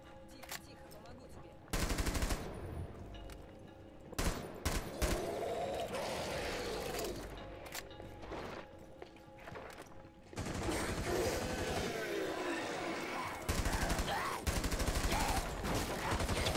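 Bursts of rapid automatic gunfire from the zombie-clearing mode Outbreak in the video game Rainbow Six Siege, several loud volleys with short gaps and steady game ambience between them.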